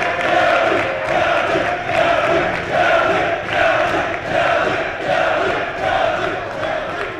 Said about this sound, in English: Another applause for Calvin King.